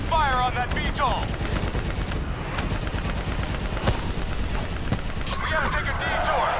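Dense automatic gunfire pours at a VTOL aircraft in the Call of Duty: Black Ops 3 campaign, a loud continuous rattle of rapid shots over battle noise, with brief radio-like chirps at the start and end.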